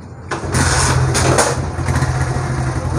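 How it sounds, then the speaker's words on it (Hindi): A 2015 Chinese CD70 motorcycle engine is started up close. It catches with a sudden loud burst and settles into a steady, buzzing idle. "चलाएं, स्टार्ट करें भाई गाड़ी।"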